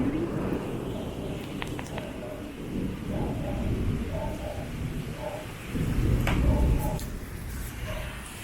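Heavy rain pours steadily during a storm, with low rumbles of thunder swelling beneath the constant hiss, a louder roll near the end, and faint voices in the background.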